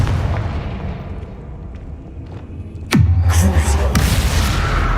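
A Confringo blasting spell in the video game Hogwarts Legacy lands with a sudden heavy explosion, a sharp crack rolling into a deep booming rumble over the game's ambient background.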